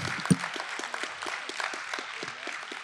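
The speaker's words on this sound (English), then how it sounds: "Y'all clap it up." An audience at a museum talk applauds steadily, with a broad wash of clapping and a few distinct nearby claps standing out through it.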